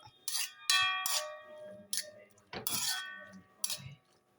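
A spoon stirring lemon pickle in a bowl, with repeated bright metallic clinks and rings against the bowl in an irregular rhythm and quiet gaps between strikes.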